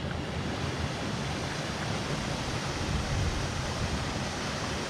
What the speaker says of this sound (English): This is the River Liza.